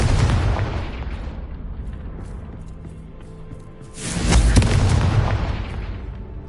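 A Confringo blast spell goes off in Hogwarts Legacy, a loud booming explosion that swells in and then rolls away, with a second heavy blast a few seconds later, played over game music with no talk.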